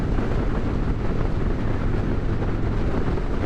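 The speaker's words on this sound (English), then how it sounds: "wind's kicked up a little bit too" Strong wind roars constantly into the microphone during a motorcycle ride on a mountain highway, a loud unbroken buffeting rumble throughout, with no talking.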